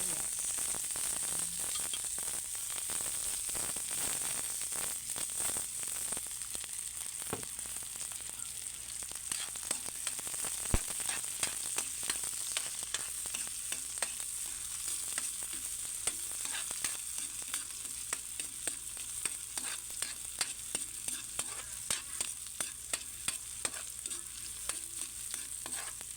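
Onions fry in a pan for pork kaldereta, a constant sizzle with frequent sharp clicks and scrapes of the spatula stirring, steady and close.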